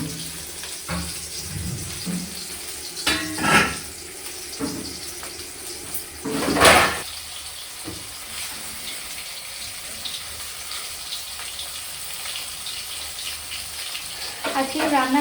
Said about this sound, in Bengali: এখানে মাছ ভাজতে বসিয়ে দিয়েছি।